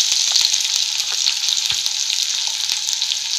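Green chillies roast dry in a pan for a curry chutney, giving a loud, dense crackling hiss throughout with scattered sharp ticks and a few scraping stirs, close up and without voices.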